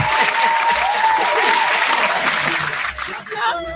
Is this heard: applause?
yes